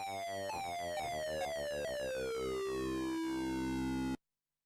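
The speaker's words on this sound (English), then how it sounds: "by turning on the synchronization, we get this exciting result" Synthesizer laser-harp patch with oscillator sync enabled, one loud bright tone whose harmonics sweep sharply downward in a glassy, zapping cascade over about four seconds before cutting off abruptly.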